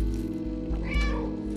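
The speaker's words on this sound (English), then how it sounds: "The cat go meow." A cat meowing in the video game Stray, a single clear drawn-out meow rising over a continuous low game-music background.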